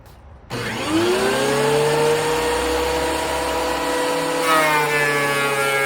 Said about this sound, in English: let's get some planing done